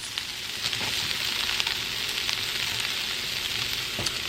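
Ginger and scallions hitting a hot pan in a home kitchen, a steady close sizzle and crackle of frying with occasional stirring clicks, no talking.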